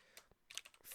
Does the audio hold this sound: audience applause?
no